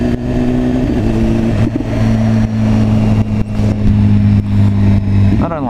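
Motorbike engine while riding on the road, a loud steady droning hum with brief dips as the throttle shifts, with a rider talking over it.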